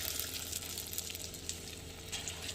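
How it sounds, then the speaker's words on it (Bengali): Lentil fritters (matar and masoor dal bora) with garlic and green chili sizzle in hot oil, a faint continuous crackling hiss with small irregular pops. "এই যে বড়াগুলো ভাজবো এখন"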